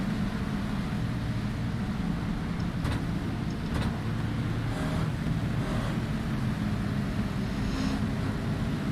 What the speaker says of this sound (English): driving this Ford Fusion, circa 2009